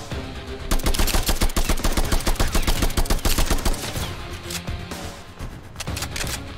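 Rapid bursts of gunfire from the video game Hentai VS Evil crackle loudly and repeatedly, a dense rattling string of shots that thins toward the end, with no talking.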